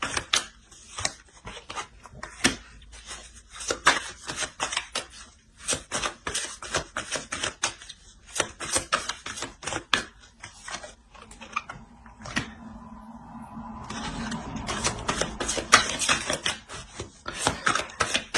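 Tarot cards are shuffled, flicked and laid out on a table in a run of quick, sharp, close taps and snaps. After a short pause the handling turns to softer rustling and sliding.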